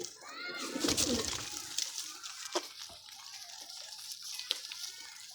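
Pigeons coo on a rooftop in Sargodha, soft rolling calls repeating close by, mixed with wing flutters, light splashing and a few sharp clicks, with no talk over them.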